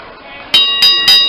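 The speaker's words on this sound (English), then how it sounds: "And there's the bell." A wrestling ring bell rings three times in quick succession to start a match, loud and metallic with a lingering ring, over a background of crowd noise at a live independent wrestling event.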